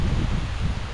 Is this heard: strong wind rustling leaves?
yes